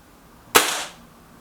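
A single sharp crack from a Kral Puncher Breaker airgun shot striking a target, a sudden loud burst that fades quickly into quiet.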